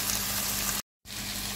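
Food frying in olive oil in a wok, a dense, steady close sizzle that cuts out abruptly for a moment before resuming just as loud.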